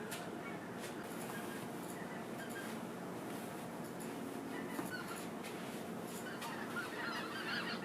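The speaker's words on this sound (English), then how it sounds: "Are those birds laughing at me?" Birds honk and call over a constant noisy background, with scattered cries throughout and some dog-like whimpering sounds mixed in.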